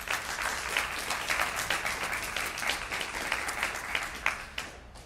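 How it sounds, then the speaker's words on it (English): A crowd at an airport press conference for Southwest Airlines claps steadily for about five seconds, a dense and fairly loud ovation that tapers off at the end. "So let's go ahead and give them a good round of applause."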